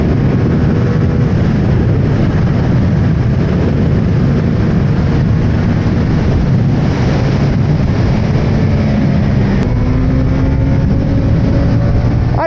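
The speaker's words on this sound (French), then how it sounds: "Allez, face au 600 CBR. 600 CBR qui accélère." A Honda CBR 600 motorcycle accelerates on a wet race track, its engine roaring continuously under wind noise, with the pitch climbing toward the end.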